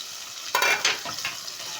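Meat frying in a pot for an Afghan rice dish, a short burst of bright sizzling as it is stirred, close and loud, with no talk.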